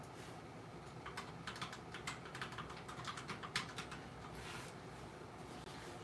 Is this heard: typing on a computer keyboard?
yes